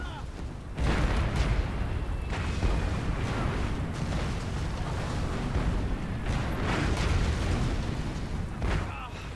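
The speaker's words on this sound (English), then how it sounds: "Incoming artillery fire!" Artillery fire and explosions in the World War II video game War Mongrels, a dense continuous rumble of booms and blasts, loud and close, with a voice shouting over the barrage.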